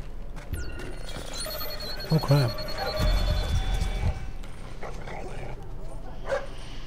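A dog barks several times in the stealth video game Splinter Cell Blacklist, set in Benghazi, with sharp yips and whimpers over game music and tones, while someone talks.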